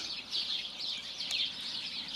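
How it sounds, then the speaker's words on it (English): Sparrows in a tree in Lower Hutt, New Zealand, keep up a steady, dense chorus of high chirps and tweets, moderately close and continuous with no talking. "So this is a video of a tree by our place with a whole lot of birds. See all the sparrows?"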